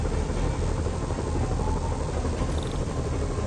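A helicopter in the Marvel's Spider-Man video game, a steady low rotor and engine drone that stays loud and unbroken throughout, with a faint tone briefly over it.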